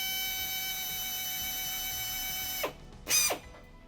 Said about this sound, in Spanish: Con la ayuda de un taladro, lo que hago es trenzarlos